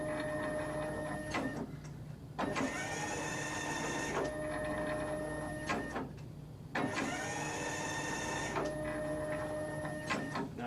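Kegel Kustodian ION bowling lane machine running, a steady loud mechanical whir with tonal motor whine, broken by two brief pauses where the head shifts before resuming its travel.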